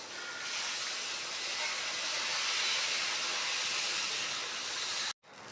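Dosa batter ladled onto a hot, lightly oiled tawa for uthappam, giving a steady close broadband sizzle that holds evenly for about five seconds before cutting out abruptly.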